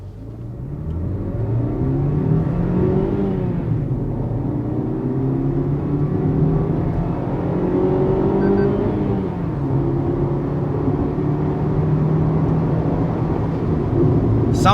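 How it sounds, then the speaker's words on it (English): A 2022 Maruti Suzuki Baleno Alpha AMT engine revs under full throttle as the car sprints, a steady mid-pitched drone that climbs, dips at a gear change and climbs again, heard continuously from inside the cabin. "I'm going to kick that throttle pedal to the metal, and now you listen to the engine"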